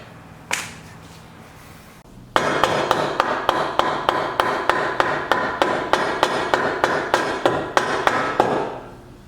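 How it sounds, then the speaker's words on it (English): After one early knock, a hammer strikes a wooden block in a quick, even series of about twenty sharp taps, close and fairly loud, tapping a front wheel bearing into place on a BMW E30 or E36. "I'll take a wood block and a hammer and I'll gently tap it in"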